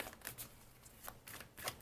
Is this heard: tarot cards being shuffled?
yes